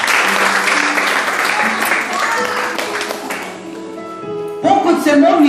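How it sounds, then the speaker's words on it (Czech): A church congregation claps together in praise, a dense wash of hand claps with voices and music mixed in, growing louder and brighter toward the end. "Sláva ti Ježíš, můžeme zatleskat Pánu."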